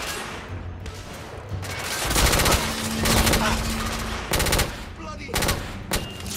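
Pistol gunfire in the video game The Order: 1886, with rapid loud shots in dense bursts over a constant background of game ambience.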